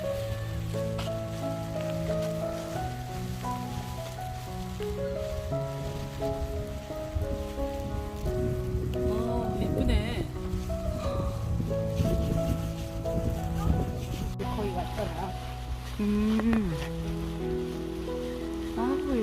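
Steady rain falls over Gyeokpo seaside harbor near the breakwater in Buan, a dense, continuous close patter and hiss that holds throughout, with some tonal sounds mixed in.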